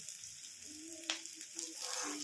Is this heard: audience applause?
no